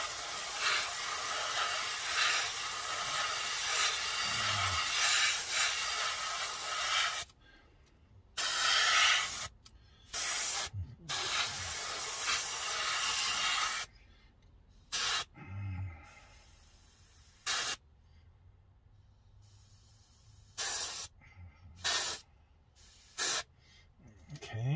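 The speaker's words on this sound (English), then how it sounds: "with this dual action airbrush, I control that right here" Dual action airbrush spraying Testors enamel paint onto a scale model auto body, a close steady hiss in long bursts that stop and restart, then shorter on-off sprays with silent gaps.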